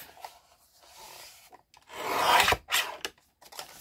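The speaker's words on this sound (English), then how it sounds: "So we're going to cut this end off." Scissors cut through a paper card flap for a paper pumpkin kit craft, giving close, crisp rasping snips in short bursts with quiet gaps between them.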